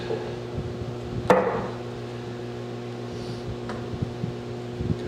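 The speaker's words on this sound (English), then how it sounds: "I'm gonna pound in these razor blades" A hammer taps razor blades into wood: one sharp, close strike, then a fainter tap a couple of seconds later, over a steady background hum.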